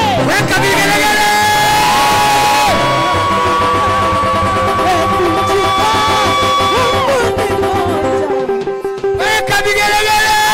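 At a church service the congregation fills the room with vigelegele, long high ululating trills from many voices layered over a loud crowd of shouts and cheering, with a brief dip near the end before the trills swell again.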